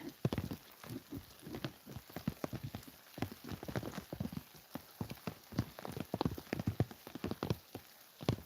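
Rain patters steadily nearby on a farm, with heavy drops striking an umbrella in an uneven rhythm of close, crisp taps.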